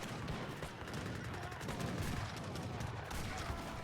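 Strategy video game battle gunfire, including a gatling unit, crackles as dense rapid shots and volleys under a steady roar of in-game action, faint and continuous, with commentators talking over it.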